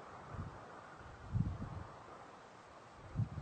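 Gusts of wind buffet the microphone in low thumping bursts over a steady soft rush, with leaves faintly rustling.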